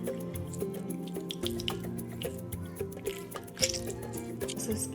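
Fresh lemon water is poured and trickles into a glass, a soft dripping, splashing stream heard beneath steady background music.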